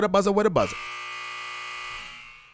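A short voice phrase gives way to a loud electronic buzzer sound effect, a steady harsh buzzing tone that holds for about a second and a half before fading.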